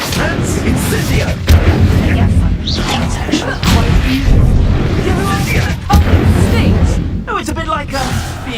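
Incendio fire spell bursting repeatedly in Hogwarts Legacy, loud booming blasts over continuous dense game noise, with a voice talking throughout.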